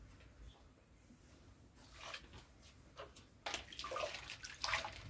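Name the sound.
water tap running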